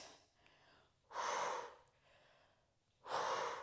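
Two strong, rushing breaths during a Pilates twist exercise, each about half a second long and roughly two seconds apart, loud and close, with quieter airy breathing in between.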